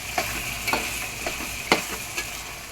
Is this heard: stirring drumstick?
yes